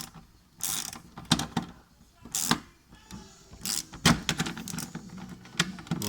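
Wrench working 13 mm seat bolts loose inside a Renault Twingo phase 2, a run of close ratcheting clicks and metallic clunks in short uneven bursts, with no talking.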